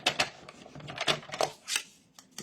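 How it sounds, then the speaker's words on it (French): Paper being folded into small pleats for a handmade baby card: close, crisp crinkles and creases in quick irregular bursts, with a soft tap or two between. "Des petits plis. Je remarque bien mes plis."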